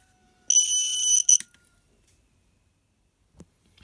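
Snap Circuits toy motion detector alarm going off, a single loud, high electronic tone held for about a second and then abruptly cut, followed by near silence with a faint tap.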